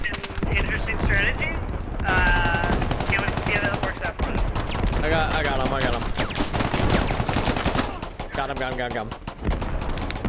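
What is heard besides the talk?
gunfire in the video game Squad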